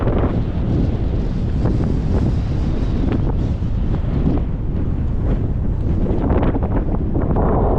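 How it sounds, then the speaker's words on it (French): Strong wind blowing up from a cliff buffets and rushes past steadily, loud and close, with gusty rumbling across the whole stretch. "Le vent remonte depuis la falaise."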